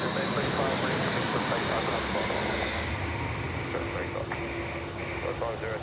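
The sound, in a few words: Jetstar A320 airliner arriving at Sydney Airport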